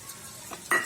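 Small onions and garlic sautéing in hot oil in a pan for a ladies finger puli kulambu, a brief stir with a soft sizzle and a quick utensil scrape.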